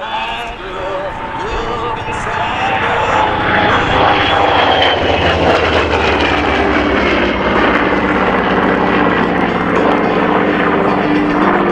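Douglas A-1 Skyraider with its Wright R-3350 radial engine flying past at the Selfridge air show, a loud, steady propeller drone that swells and holds for the whole stretch, mixed with crowd and background noise.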